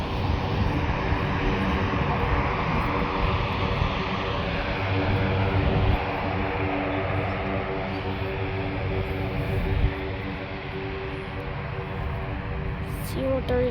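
A Lockheed C-130J Hercules military airplane takes off at Fort Bragg, its loud, sustained propeller-engine roar droning steadily and close throughout with a dense low rumble, easing slightly toward the end.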